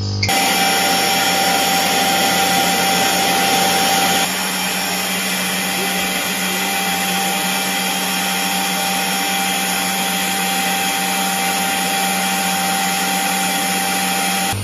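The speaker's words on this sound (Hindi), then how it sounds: "मैट्रेस की वैक्यूम क्लीनिंग हो रही है ऊपर से" A vacuum cleaner runs over the top of a mattress during a professional deep cleaning of a home, a loud steady motor roar that continues without a break.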